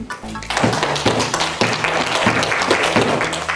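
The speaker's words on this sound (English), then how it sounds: "Give yourselves a round of applause, please." A group of children claps in a science session, a dense close round of applause with heavy thuds that carries on steadily for several seconds, and a few voices mix in.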